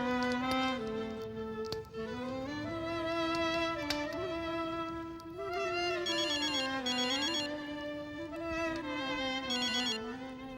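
A telephone ringtone plays steadily for an outgoing call, a looping electronic melody with repeating bright tones, clear and close with no talking over it.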